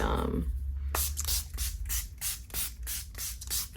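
Several short bursts of makeup setting spray in quick succession, close by, each a brief airy hissing puff with small pauses between, no talking.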